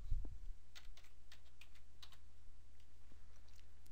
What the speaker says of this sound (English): filter the list by typing Power